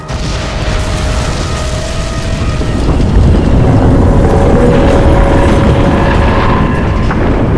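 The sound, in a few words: explosion in the video game Crysis 2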